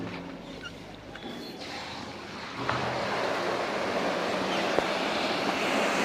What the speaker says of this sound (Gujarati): પાણી આવી ગયું છે અંદર પાણી ચાલુ થઈ ગયું છે